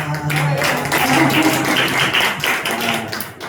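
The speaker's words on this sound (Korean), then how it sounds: "김수희 권사님한테 박수 주세요." A church congregation at a Sunday service applauding two deacons, giving dense, steady clapping that fills the room at close range with a few voices mixed in.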